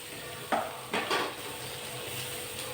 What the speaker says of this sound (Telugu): ఇప్పుడు టమాటా వేద్దాం.